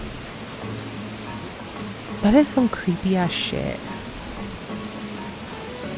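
Steady rain falls in Animal Crossing: New Horizons, a soft continuous hiss running throughout, while a person talks briefly over it partway through.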